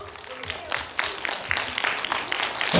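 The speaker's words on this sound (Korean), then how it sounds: "박수로 시작합니다." An audience at a trot song festival claps in a rhythmic, evenly spaced beat to start a lively song, the claps moderately loud and slightly distant over a busy hall background.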